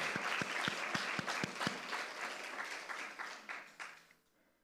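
Church congregation clapping during a Parents' Day Sunday service, a dense patter of hands that fades out toward the end, with a few low thumps early on.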